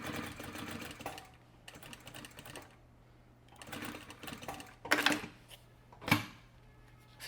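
A sewing machine stitches a seam on a professional wallet in several bursts of rapid, even needle chatter, broken by short pauses and a couple of louder handling clicks, close by with no talking.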